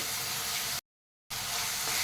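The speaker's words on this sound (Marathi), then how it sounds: "टोमॅटोचे मिश्रण पण आपल्याला तेलामध्ये चांगलं परतून घ्यायचं आहे" A tomato mixture fries in hot oil with a close, loud, steady hiss and sizzle that cuts off completely for half a second and then resumes just as strongly.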